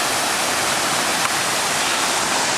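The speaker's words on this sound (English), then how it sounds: "So there's a waterfall up there, and here's our second crossing to the north." A waterfall and stream rush at a low-water creek crossing on a mountain trail, forming a dense, steady broadband roar close by with no voices.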